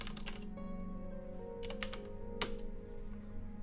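Keystrokes clatter on a computer keyboard while automated tests are written for a Skyrim quest mod, a steady run of close, crisp clicks with a brief sharper burst partway through and a low hum underneath.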